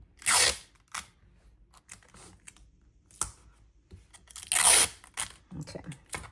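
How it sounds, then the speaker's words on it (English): Short sharp rips of adhesive tape tear in scattered bursts at close range as tape goes around the edges of a paper graduation fan, with soft crinkling in between and no talk. "I'm just gonna go in with a little bit of tape around the edges"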